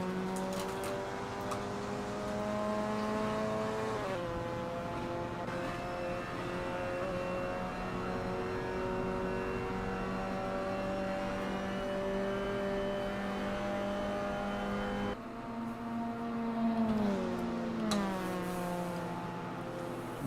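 NA Mazda MX-5 Miata rookie-class race cars lap the Feldburgring in a video game, with a continuous buzzing engine drone whose pitch climbs through gears, drops on shifts and braking, and rises again, without any talk.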